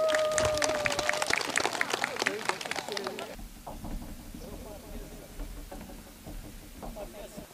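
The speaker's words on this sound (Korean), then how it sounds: "큰 박수 부탁드리겠습니다." Audience applause at an indoor saxophone concert, dense clapping for about three seconds, then fading into scattered claps and crowd murmur with some talk.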